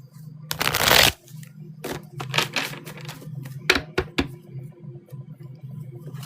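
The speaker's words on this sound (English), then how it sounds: "We'll just do a little shuffle" Tarot cards being shuffled in quick riffling bursts, a longer flurry followed by several short slaps and taps, close and fairly quiet.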